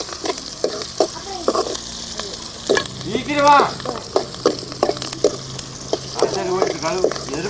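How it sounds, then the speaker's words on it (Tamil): Onions frying and being stirred in a pan while a spicy chutney for dosa is being made, with a steady sizzle broken by repeated scraping strokes of a spoon against the metal. "நல்ல வெங்காயம் சேவக்கணும்"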